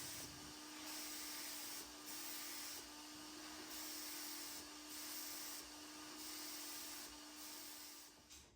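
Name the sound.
spraying varnish onto wooden cabinet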